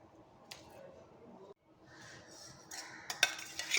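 Metal spoon clinking against a bowl while sugar goes into bhature dough, a few light scattered clinks and scrapes close by, sharper taps near the end, with no talking.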